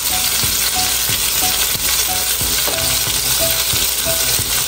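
Yakiniku beef in sauce fries loudly in a pan, a dense continuous sizzle punctuated by regular clacks and scrapes of stirring, close and with no talking.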